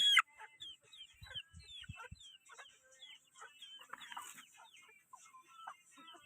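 Chickens on a small farm cluck in short, scattered bursts at moderate distance, with a brief louder call at the start and quiet gaps between.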